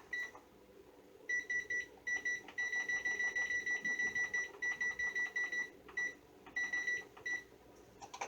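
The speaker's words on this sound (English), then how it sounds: "timer is going off again." A kitchen oven timer goes off while breadsticks are being baked, sounding repeated bursts of quick, shrill electronic beeps in regular groups, loud and near, over faint room noise.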